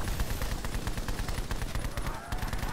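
Rapid automatic gunfire from a Black Ops 4 zombies match, a dense, continuous burst of closely spaced shots with heavy low-end punch running for the whole stretch without pause.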